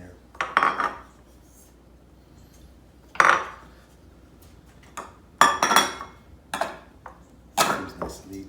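Dry biscuit ingredients mixed in a bowl, with a handful of separate clinking, scraping strokes of a utensil against the dish at irregular intervals, close and moderately loud, no talking.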